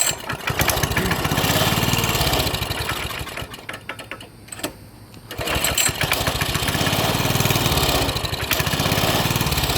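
A Coleman CT200 minibike's small engine idling close by, a loud buzzing drone that dips briefly halfway through before picking back up to a steady rattle.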